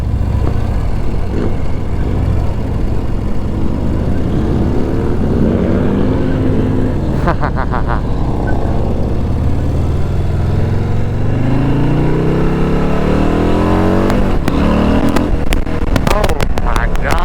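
Harley-Davidson Low Rider ST fitted with a Stage 4 Screamin Eagle kit, its engine rising and falling in pitch as it revs and pulls, loud and close throughout, with someone talking over it at times.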